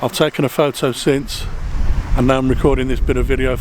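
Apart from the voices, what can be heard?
No everyday noise stands out behind the speech.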